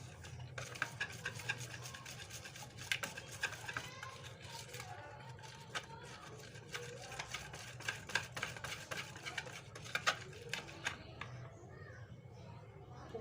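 A spoon or whisk beats mashed brinjal with yogurt, black pepper and spices in a bowl, producing a steady, close, soft rhythmic scraping and stirring.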